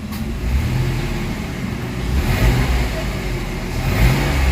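A Mitsubishi Mirage engine with throttle delay and low power idles with a low, steady rumble, rising slightly in a couple of mild revs; a voice is faintly present in the background.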